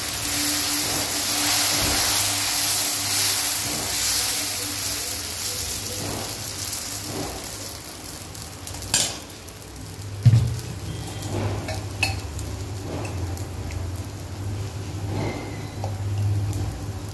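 Mudakathan keerai dosa batter sizzles on an oiled griddle with a steady, close hiss. A few sharper taps and scrapes from a spatula break through it, and no one speaks.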